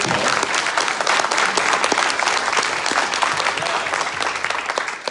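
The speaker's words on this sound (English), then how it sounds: "Give him a round of applause, especially for his wife" A crowd at a Texas political campaign event breaks into sustained, dense applause, loud and even throughout with only faint voices mixed in.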